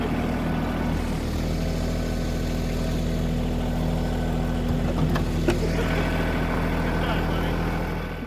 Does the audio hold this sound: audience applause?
no